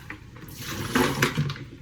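Water gushes and splashes into a bucket for a couple of seconds, a steady rushing pour with no talking.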